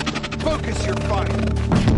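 Gunfire during combat in Horizon Zero Dawn, layered with game music and shouted character dialogue, a dense, loud mix of rapid shots and impacts running throughout.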